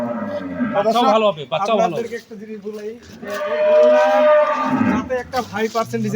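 A Holstein Friesian cow moos loudly and close by, several long low calls in a row, with overlapping drawn-out lowing.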